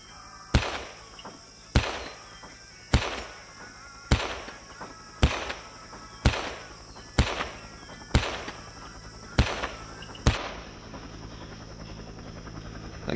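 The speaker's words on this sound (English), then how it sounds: "Oh, the M14, the US used this before the introduction of the M16." Nine sharp, evenly spaced M14 rifle shots ring out at a target range in the Vietnam War game Men of Valor, each crack followed by a short decaying echo, then the firing stops and only a low background hum remains.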